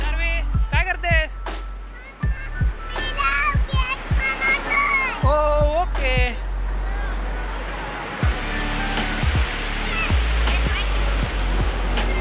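Sea waves wash onto Malvan beach in Konkan, a steady broad surf rush running under frequent voices of adults and children chattering nearby.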